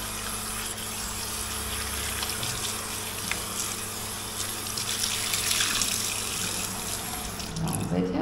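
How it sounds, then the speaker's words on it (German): Tap water runs steadily into a sink plugged with a washcloth, a continuous close rushing and splashing flow throughout, with faint background noise and no clear talk. "Waschlappen nehmen, als Stöpsel nehmen, zack, und Wasser laufen lassen"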